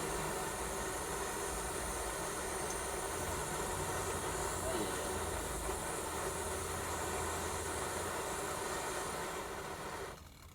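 Soto Windmaster camping stove burning steadily while boiling water, a loud, constant roaring hiss that drops off slightly at the very end.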